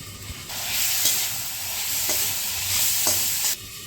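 Capsicum and chicken curry sizzles steadily in a pan while being stirred, a continuous close frying hiss with occasional scraping knocks of the spoon, and no talking.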